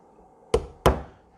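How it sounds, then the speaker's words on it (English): Two sharp knocks sound as a hammer taps a screwdriver to drive out the fork seal on a Suzuki Intruder VS1400, close and distinct, about a third of a second apart, each with a brief decay. "hammer on the other end, and I'm just going to tap twice, rotate the fork, go about half an inch further around, 2 taps"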